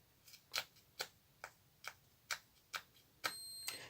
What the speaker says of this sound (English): one long beep means that the feature is off